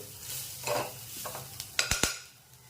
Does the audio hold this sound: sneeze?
no